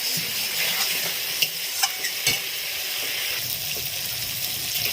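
Snakehead fish curry masala is stirred in a pan over a wood fire, giving a constant close sizzle broken by a few sharp scraping knocks of the spoon against the pan.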